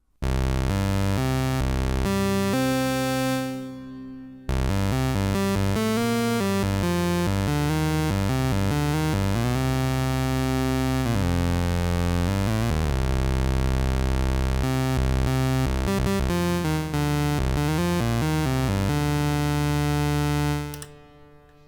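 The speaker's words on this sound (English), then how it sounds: "here's the exact same preset, but this time we're taking the audio from the Microfreak and first running it through the Korg NTS1" Arturia MicroFreak synthesizer preset played through a Korg NTS-1 hall reverb, a dense, continuous harmonic tone with shifting pitches and reverberant tails, loud and sustained for about twenty seconds with a brief dip midway.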